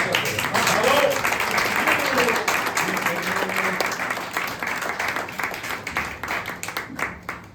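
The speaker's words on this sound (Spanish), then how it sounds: "Le damos un aplauso" An audience at a lecture on Calvin applauds the speaker, a dense steady clapping that gradually thins and fades toward the end, with some voices underneath.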